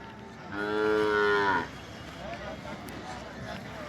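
A calf gives one long, loud moo at the Narasipura cattle market, then quieter crowd chatter and market noise carry on underneath.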